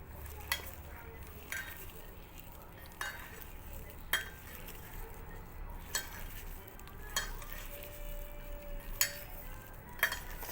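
A spoon stirs a flattened rice snack mixture with local coriander in a pan. Soft scraping and sizzling run under intermittent clinks of metal against the pan, quiet and close.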